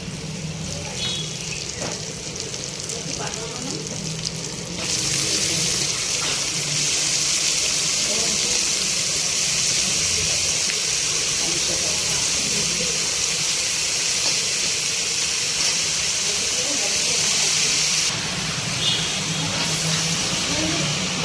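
Ponnaganti greens frying in an open pan with ginger garlic paste give a steady, loud steamy hiss and sizzle that swells after a few seconds and holds, with faint stirring clatter.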